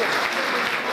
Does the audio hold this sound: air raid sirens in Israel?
no